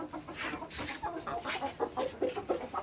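Household chickens and their chicks cluck and peep in a series of short, close calls of varying loudness, with no talk heard.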